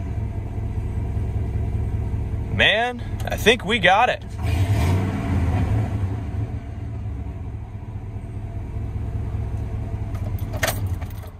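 A pickup truck engine fires back up and settles into a steady, low idle that runs under the whole stretch, while someone speaks briefly over it partway through.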